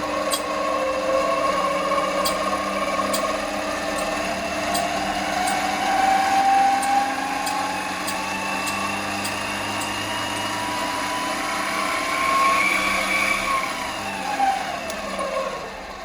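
An Amadeal CJ18A 7x14 mini lathe with plastic gears spins steadily, a close motor whine and gear hum with shifting tones and faint regular ticks, running alone without talk.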